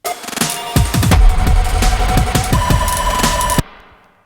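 A loud, booming impact hits with rumbling low-end thuds, then a long reverberant wash trails off before cutting out abruptly.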